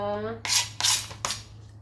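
A knife slices through a steamed chicken wing cooked in a pumpkin, making three short, close rasping scrapes against a plate or board after a brief hum, each cut crisp and separate.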